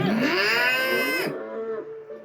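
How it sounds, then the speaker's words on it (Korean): A cow moos in one long, loud, rising then falling call that cuts off sharply, followed by a quieter trailing tone. "소리라도 지르면 음메 울음소리만 났어."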